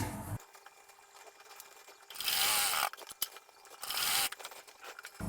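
A sewing machine stitches a suit sleeve in two short, loud whirring bursts separated by a quieter pause, with faint mechanical clicks in between.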